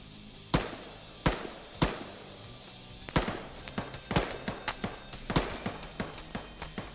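Gunfire in the military shooter ARMA 3: single sharp shots spaced apart at first, then a quicker run of bursts, moderately distant with no talk over them.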